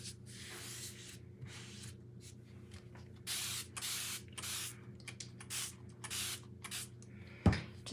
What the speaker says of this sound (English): Just giving it a little mist.